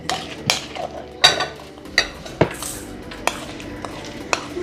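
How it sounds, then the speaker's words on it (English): Apples going into a pan of cooking apple turnover filling on a stove at low to medium-low heat, heard as a few soft clatters and clinks of fruit and utensil against the pan, with no talking. "I'm just gonna add the apples"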